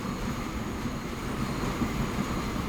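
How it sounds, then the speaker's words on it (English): A train arriving in the video game Transport Fever 2, heard as a steady low rumble of rolling wheels and carriages that stays fairly loud and even, with no voice over it. "Here comes this train."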